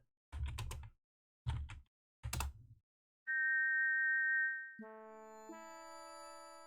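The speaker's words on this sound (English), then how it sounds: "you put the shiny silver whistle to your lips and forcefully blow into it, producing a loud tweet" In King's Quest IV, three bursts of keyboard typing give way to a silver whistle's steady, bright, pure electronic tweet, followed by a sequence of stacked synthesized tones.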